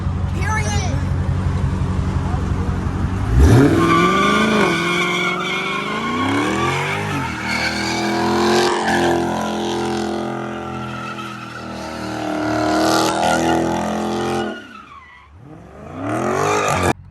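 A Dodge Scat Pack slides with loud tire squeal while its engine revs hard and rises in pitch, roaring up close for a long stretch before dipping briefly and surging again, with voices over parts of it.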